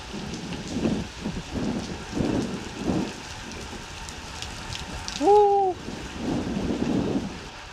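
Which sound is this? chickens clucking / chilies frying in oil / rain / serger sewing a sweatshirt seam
rain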